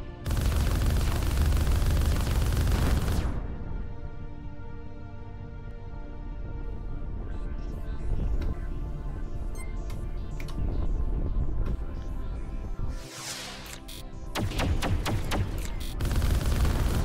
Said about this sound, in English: combat feels pretty good and the explosions are terrific